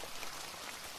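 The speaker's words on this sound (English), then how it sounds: "the rain continues, steady and calm, dripping into your tin cup and hissing on the fire" Steady rain patters and drips in an outdoor camp setting, a soft continuous hiss of drops landing on a tin cup and a fire, even and close with no voices.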